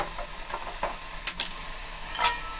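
Vegetable curry being stirred in a pan over a gas flame, giving a few soft, brief scrapes and light clicks over a faint low hiss, quiet and close.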